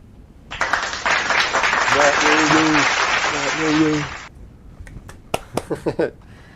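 A burst of clapping and cheering swells for a few seconds, with a voice calling out over it, then fades into a handful of scattered single claps.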